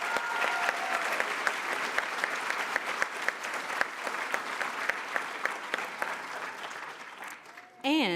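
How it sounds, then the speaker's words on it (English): Graduation ceremony crowd giving a round of applause, steady clapping from a large seated audience that tapers off before a voice returns at the very end. "let's give a round of applause to the wonderful staff for the ceremony they have put on for us"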